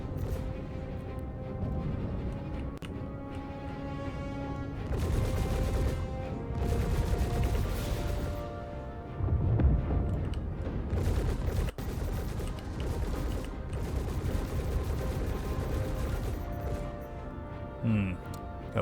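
Spaceship guns firing in Star Citizen combat: dense bursts of rapid, crackling gunfire and crashes come in waves, with loud stretches broken by short lulls over layered game sounds, and a voice talks over parts of it.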